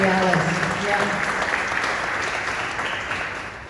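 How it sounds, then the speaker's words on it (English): An audience at a college media center event claps in a sustained round of applause, loud at first and slowly tapering, with a voice briefly audible at the start. "round of applause for Mary Alice"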